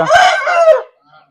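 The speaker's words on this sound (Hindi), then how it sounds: "ये मेरा जो है ना फेवरेट मुर्गा है" A rooster on a dairy farm in Pakistan lets out one short, close, loud crow that cuts off abruptly, followed by near silence.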